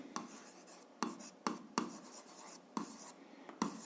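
Pen on paper writing out an algebra exercise by hand, a quiet close scratching in short separate strokes and bursts with brief pauses between, no voice over it.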